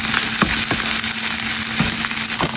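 Garlic sizzling loudly as it hits a hot frying pan, a dense steady hiss and crackle with occasional stirring scrapes and a faint tonal hum underneath.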